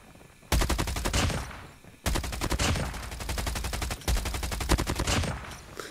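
The FHJ-18 in COD Mobile fires in three sustained bursts of rapid, loud, close shots, each ringing out in a dense rattle before a short pause.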